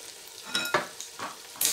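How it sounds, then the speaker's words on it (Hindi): Potato pieces frying in masala for an aloo anday curry, a brief close sizzle broken by a few scraping stirs of the spoon. "तो यहाँ आलूओं को भूनेंगे अच्छी तरह मसाले में।"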